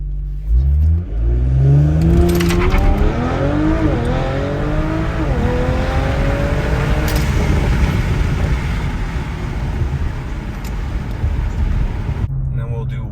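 Audi RS5 Stage 2 with a tuned transmission accelerating hard from inside the cabin with the windows down, engine note climbing through several upshifts in a loud, continuous run with short dips at each shift.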